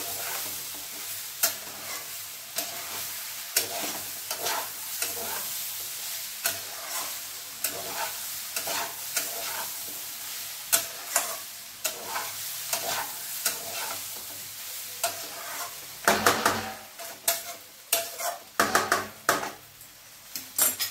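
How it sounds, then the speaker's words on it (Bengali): Red lentils (masoor dal) being stirred and fried in a pan with vegetables, a steady close sizzle under repeated scraping strokes and light clinks of the utensil, busier toward the end. "মুসুরির ডালটা দিয়ে আবার একটু নাড়িয়ে চাড়িয়ে দেবো।"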